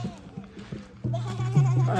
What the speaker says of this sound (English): ये एक दो गोट्स यहाँ पे भी है।